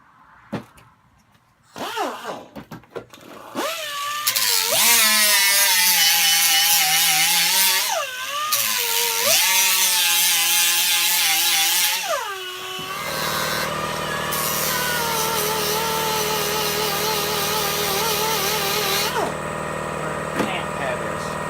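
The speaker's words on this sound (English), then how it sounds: "And now we're going to grind this down." An angle grinder grinds down a Ford Explorer 8.8 rear axle housing, a loud, sustained whine with shifting pitch that runs steadily for several seconds, then drops to a lower, steady drone after brief handling noises at the start.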